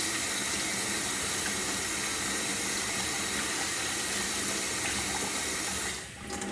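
Water from a tap pours steadily over a clogged nozzle from a fluid paint refill to rinse it clean, making a close, continuous splashing rush that eases off near the end.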